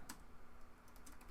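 Someone types on a computer keyboard, a few soft clicks and taps over low room noise, brief and faint with no talking.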